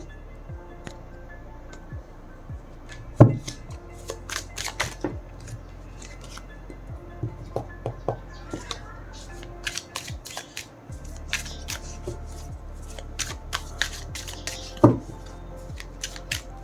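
Tarot cards shuffled by hand, giving a run of crisp, close flicks and riffling snaps, with a few sharper slaps of the deck, over a steady low background hum.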